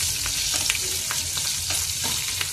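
Dried prawns and green chillies sizzle steadily in a pan of brinjal curry, a dense close hiss of frying with faint crackles and a few soft stirring scrapes, no voices.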